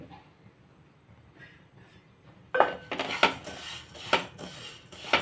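A metal pan set on a lit stove for roasting vermicelli: after a quiet start come several close, sharp clattering knocks and scrapes of metal cookware.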